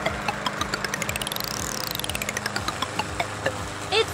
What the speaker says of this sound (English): All right, let's start our engines.